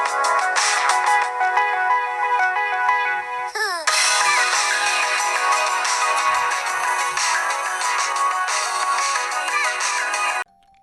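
A NUU Mobile G3 phone's small, tinny single mono down-firing speaker plays a bright electronic melody with a quick descending swoop partway through, then cuts off abruptly.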